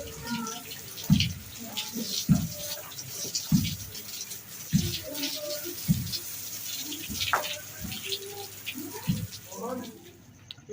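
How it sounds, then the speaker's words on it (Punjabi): Water splashed by hand onto the walls and floor of a room in a Pakistani village house, landing in a series of close, regular slaps and splatters about a second apart, with short gaps between them. "ਦੀਵਾਰਾਂ ਨੂੰ ਕਮਰੇ ਦੇ ਨਾਲ ਪਾਣੀ ਛਿੜਕਾ ਦਿੱਤਾ"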